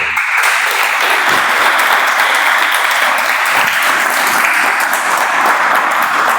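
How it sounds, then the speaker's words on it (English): A full audience applauds steadily at a Toastmasters meeting after a table topics session, dense, even clapping that holds loud and constant throughout with no break. "Can we have a huge round of applause?"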